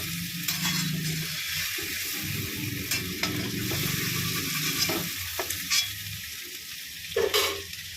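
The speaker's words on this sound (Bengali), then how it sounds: "চিংড়ি মাছটা ভেজে নিচ্ছি" Shrimp frying in hot oil in a pan, a steady close sizzle with stirring scrapes and a few brief louder bursts, no talk.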